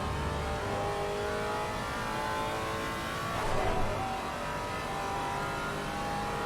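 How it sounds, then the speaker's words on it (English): A Maserati race car at Monza roars with a steady, droning engine note throughout, swelling briefly midway as it pushes hard through the circuit, with no talking. "Listen to the roar of that Maserati."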